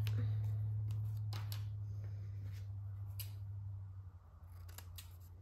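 Scissors cutting paper for a junk journal cover, a few crisp snips and clicks spread across a quiet room with a low steady hum underneath.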